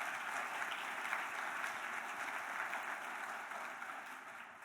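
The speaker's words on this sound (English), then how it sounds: "Let's all give ourselves a round of applause for that." A large conference audience at the 2022 Noyce Summit applauds in an even, continuous wash of clapping that stays steady throughout and tapers slightly at the end.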